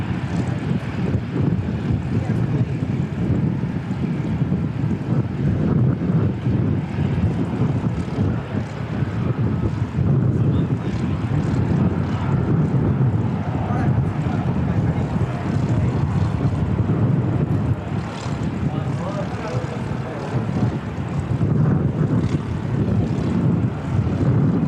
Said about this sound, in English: Jetstar 246 rolling, heading off to Auckland.